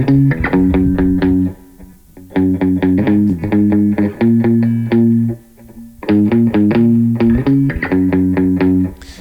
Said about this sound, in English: So the original bass line sounds something like this.